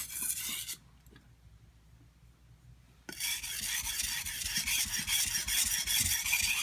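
A handmade Fujiwara Santoku knife is sharpened on water stones, loud rasping strokes of steel scraping across wet stone, a short burst, then a quiet pause of about two seconds before steady grinding resumes and continues.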